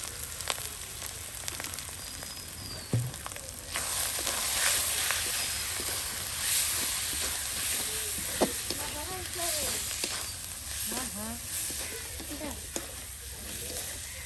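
Turmeric, chili powder and salt sizzle and fry in a little oil, a steady close hiss with soft clinks and stirring, while a voice speaks intermittently over it.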